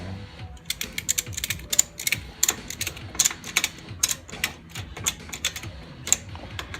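A ratchet strap is cranked tight on a truck's suspension while a Rough Country leveling kit goes in, giving a steady run of sharp, close metallic clicks in uneven bursts over a quiet garage background.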